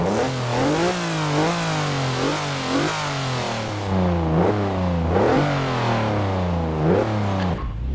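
A stock Chevrolet Colorado ZR2 pickup engine in Forza Horizon 4 revs up and down repeatedly, its pitch sweeping through several loud, rising climbs and drops over about eight seconds, with no voices.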